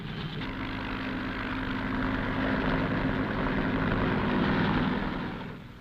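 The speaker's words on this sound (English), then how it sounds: "Fleets of helicopters lift men and artillery into the hills surrounding the base." Military helicopters fly over the hills around the Khe Sanh base during the Vietnam War, lifting men and artillery. Their steady, loud rotor and engine drone builds gradually and holds with no talk over it.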